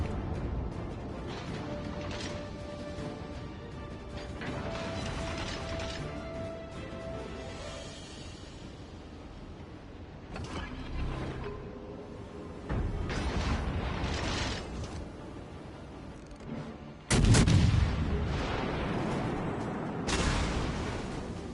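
Warship gunfire in the World of Warships naval combat game, with heavy booming salvos and crashing impacts over a constant rumbling mechanical background, including one loud blast near the end.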